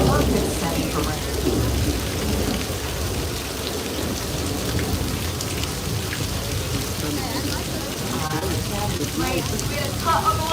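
Steady heavy simulated rain from a Universal Studios Hollywood effects setup hisses throughout, with low rumbling beneath like thunder, dense and constant from start to finish.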